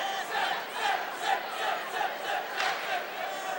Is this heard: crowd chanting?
yes